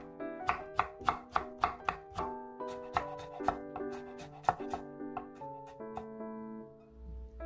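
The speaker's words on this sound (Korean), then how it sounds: "당근도 3분의 1 정도 채 썰어서 함께 준비해주세요" A knife julienning carrot chops rapidly and steadily against a cutting board, sharp regular strikes close up, slowing slightly toward the end.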